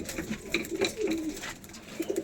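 Pigeons kept at home for sale coo in short repeated phrases, close and moderately loud, with some rustling and background noise between the calls and no speech.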